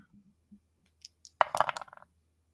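Dice tumble and clatter across a tabletop during an Old School Essentials tabletop game session, a quick burst of small rattling hits and bounces that settles within about a second, close and clear in a quiet room.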